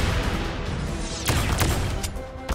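Grenade blasts in the Fallout Equestria sidescroller game, a dense roar of explosive bursts with a couple of sharper thumps partway through, loud and continuous with no talking.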